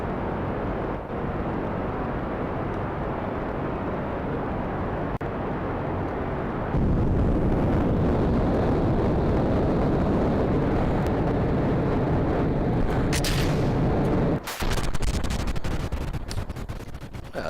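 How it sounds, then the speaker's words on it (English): Rocket explosion in the game Kerbal Space Program, with clustered chemical rockets and solid boosters: a long, loud roaring rumble that swells sharply midway, then breaks off into a final crackling blast. "That was a pretty impressive explosion."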